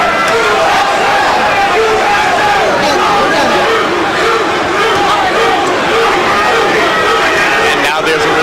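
A packed boxing arena crowd chants USA in support of American fighter Vince Phillips against Kostya Tszyu, a loud, steady roar of rhythmic voices filling the hall without letup.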